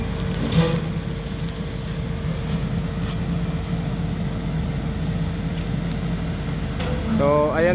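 Road traffic rumbles steadily along a road under construction in Lupi, Camarines Sur, a continuous low vehicle drone with a brief horn-like tone near the end.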